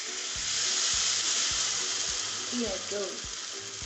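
Pancake batter sizzles steadily in melted butter in a hot pan, a loud continuous frying hiss with a few low knocks and a brief voice speaking over it.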